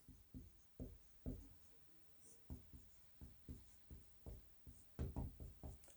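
A pen scratching out a physics definition, the angle of incidence, on paper during a Hindi-medium class 10 lesson on light reflection and refraction: a dozen or so quick, close handwriting strokes in irregular bursts, with no talk over them.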